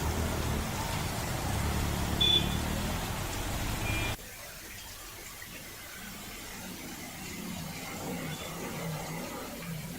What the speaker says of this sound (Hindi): ये शुरुआती बारिश है